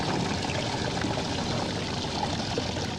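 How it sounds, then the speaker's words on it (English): Steady pouring and trickling of water draining from a duct in the point-and-click game Art of Murder: Cards of Destiny, a continuous close gush with no pauses. "The water's drained from the duct."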